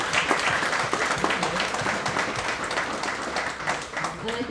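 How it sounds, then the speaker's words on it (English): An audience applauds at a community college national signing day event, sustained, lively clapping from a crowd heard at moderate distance, with voices mixed in underneath. "So if you please join me in giving her a round of applause."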